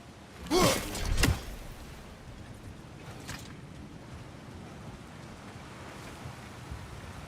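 Water flows and spills over a frozen trough in God of War Ragnarok as a steady, soft rushing hiss, preceded by a brief louder swell near the start, with no talk.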